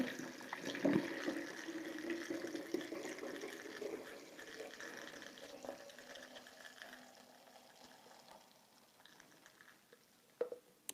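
Homemade hemp milk pours into a recycled glass bottle, a faint, steady liquid trickle that gradually thins out, followed by a few light clinks at the end.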